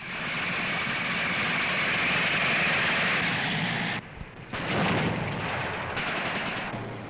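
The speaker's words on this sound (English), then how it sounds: "Now French tanks in action" French tanks in battle in Indochina, recorded for a newsreel: a loud, continuous mechanical roar with rough bursts like gunfire, dipping briefly partway through before surging back, with no voices.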